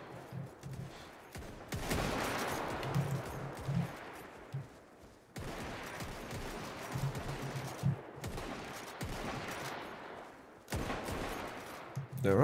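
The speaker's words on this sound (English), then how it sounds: "My shots are not getting even close to where I'm aiming them" Musket volleys from a firing line in Mount & Blade: Warband crackle in dense bursts across the clip, with sustained rattling fusillades broken by brief gaps, loud and fairly close.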